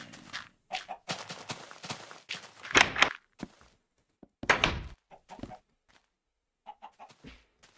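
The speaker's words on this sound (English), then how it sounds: "welcome to the old explosion noise. There's only one in the game, and it's that." Old explosion sound from the Minecraft Alpha video game: two short, harsh noisy bursts a second or so apart, set among lighter in-game clatter, footsteps and chicken clucks.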